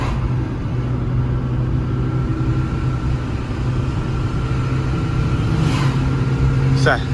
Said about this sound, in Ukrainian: Чуть-чуть підтормажуємо на другій передачі